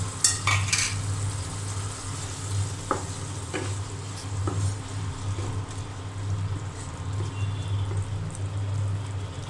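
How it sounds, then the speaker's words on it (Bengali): Prawns sautéing with spice paste in a pan for a lau chingri curry: a continuous low sizzle with a few sharp clinks of a spatula against the pan, close by and with no talking. "এখন মশলার সাথে চিংড়ি মাছ ভালো করে কষিয়ে নেব।"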